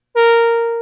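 A synthesizer organ patch sounds one bright, buzzy sustained note with a sharp attack, rich in harmonics and holding steady as it slowly fades over under a second, heard alone.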